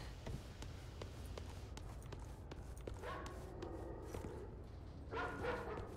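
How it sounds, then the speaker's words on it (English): Hell dogs barking and yipping in the video game Resident Evil 6, snarls and short barks mixed with footsteps and rumbling game ambience at moderate level. "Not the hell dogs."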